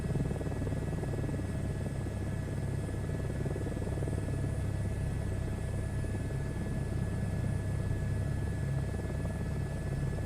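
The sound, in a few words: helicopter flying in a VR flight simulator video game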